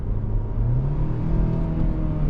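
A 2023 Kia Sportage in sport mode downshifts, its engine note rising into a steady whirring rev heard from inside the cabin.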